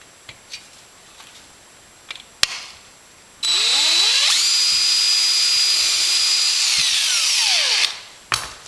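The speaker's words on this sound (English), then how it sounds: "So I'm going to go ahead and drill that hole." A power drill bores a hole in an RV-7 aircraft wing tank attach bracket, whining up sharply, holding a steady high pitch for about four seconds, then winding down, with faint handling clicks before and after.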